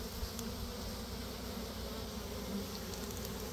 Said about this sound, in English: those are the ones that run through all the bees, motivating them to, you know, swarm